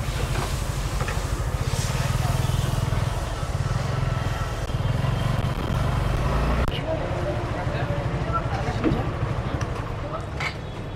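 A motorcycle on a test ride after servicing, its engine droning steadily up close with road and traffic noise around it. Someone speaks over it at times.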